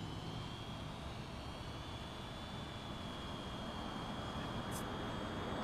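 An Eachine E58 drone on low battery comes in to land, its steady high-pitched motor whine filling the air at constant level with no talk.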